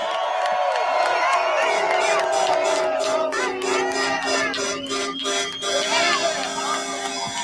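Outdoor crowd at a People's Convoy rally cheering and whooping for Senator Ted Cruz, with shouts and scattered voices over a steady, loud roar that holds for the whole stretch.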